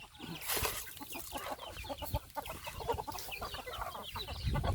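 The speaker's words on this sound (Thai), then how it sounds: "ไปฝูงไก่บ้านไก่ชนเป็ด" Chickens clucking busily in a flock at evening feeding time, overlapping short clucks and squawks at moderate distance with a steady rustling farmyard background; ducks and gamecocks also in the flock.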